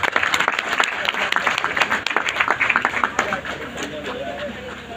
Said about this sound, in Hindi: एक बार आप लोगों के लिए तालियां हो जाए।